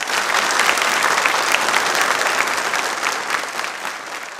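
A studio audience at a quiz programme for Ambedkar Jayanti bursts into loud, vigorous applause, many hands clapping densely and evenly, easing off slightly toward the end.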